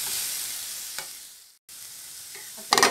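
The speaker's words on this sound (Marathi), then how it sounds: "कांदा मिनिटभर परतून आता यात मी आलं लसूण हिरवी मिरचीची पेस्ट घालून घेणार आहे।" Onion sautéing with ginger, garlic and green chili paste for a potato sandwich filling gives a soft steady sizzle, broken by a short silent gap and a brief louder burst of stirring at the end, with no talking.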